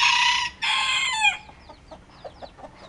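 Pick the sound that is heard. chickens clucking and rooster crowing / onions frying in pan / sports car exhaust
chickens clucking and rooster crowing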